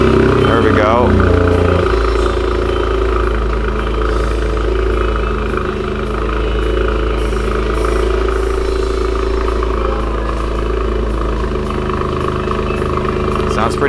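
A Toyota GR Corolla fitted with a new Magnaflow exhaust idles in a steady, deep, loud drone with a low burble, and people talk over it.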